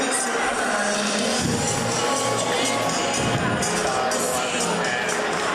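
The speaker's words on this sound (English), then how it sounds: "Good crowd on hand for the first home game of the season" The home crowd at a Stonehill College basketball game, the first home game of the season, sends up a steady wash of chatter and murmur in the arena, with a voice talking over it.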